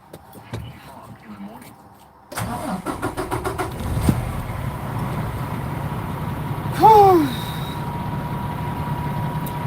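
A truck engine cranking and catching after quiet handling noises, a rapid rhythmic churn that settles into a steady idle rumble, with a brief squeal partway through and people talking nearby.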